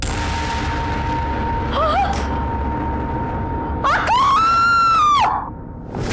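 A loud, high-pitched scream rises out of a steady hum, preceded by a shorter wavering cry; the long scream holds for over a second before cutting off.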